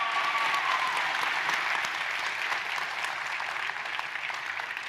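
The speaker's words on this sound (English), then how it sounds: "can we just give a huge round of applause to Kayla Oteza, please?" Applause from the audience at a school district celebration of excellence, a dense continuous wash of many hands clapping, steady and fairly loud for the whole stretch with no talk over it.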